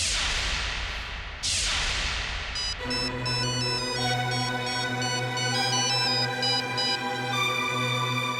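After two quick whooshes, a bright electronic ringtone plays a repeating melody, loud and steady, with no voices.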